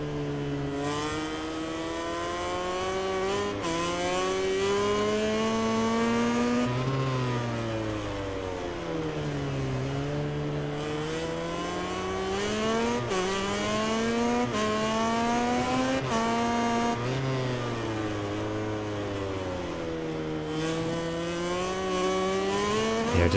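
A racing motorcycle engine in MotoGP 19 at Catalunya revs up and down in repeated rising and falling sweeps as the rear tyre spins up, loud and continuous with no voices.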